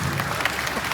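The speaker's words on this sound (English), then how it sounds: "Give me a clap!" A pageant audience claps during an interview segment, a brief, even patter of many hands, moderately loud and continuous throughout.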